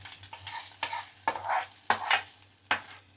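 Tempering of spices and lentils being stirred into onion rice in a pan, a spoon scraping and mixing in several distinct strokes over a soft background sizzle, close and fairly quiet.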